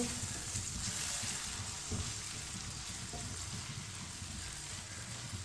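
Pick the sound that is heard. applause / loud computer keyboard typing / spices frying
spices frying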